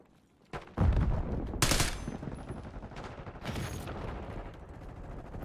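Heavy gunfire in a Call of Duty Black Ops 6 Kill Order match: loud bursts of automatic fire and a few sharp blasts crackle close by over a steady battle din, with no voices.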